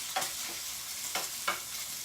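Bacon fries in a pan with a constant soft crackle and sizzle, broken by three faint taps of a utensil; no talking.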